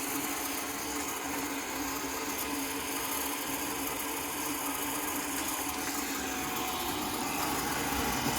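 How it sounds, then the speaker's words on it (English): Worcester Greenstar boiler with a slightly noisy fan and a failing condensate pump, giving a continuous mechanical whirring hum that stays steady and moderately quiet throughout. "The fan's slightly noisy on it, and the condensate pump is on its way out as well"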